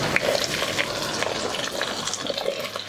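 Sliced onions and green chillies frying in oil in a pan, a dense continuous sizzle with small crackles and spits, fairly close and steady with no voices.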